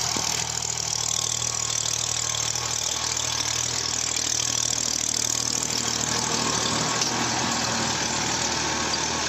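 A New Holland 3032 35hp tractor engine runs steadily at a constant mid-pitched diesel drone with a knocking texture, close and loud without letup throughout.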